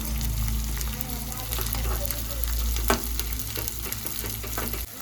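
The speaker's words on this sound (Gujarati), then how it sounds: "ગુંદર તળાઈ રહ્યો છે" Edible gum fries in ghee for sukhdi, a steady, fairly quiet sizzle with a low hum beneath it and a brief scrape or bubble burst partway through.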